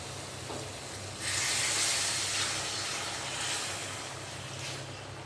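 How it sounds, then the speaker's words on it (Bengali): Water poured into a hot pan of spiced ridge gourd masala for a fish curry sets off a sudden loud, rushing hiss of steam that holds steady and then slowly eases, close by with no talking. "এবারে আমি পরিমাণ মতন জল দিয়ে দেব।"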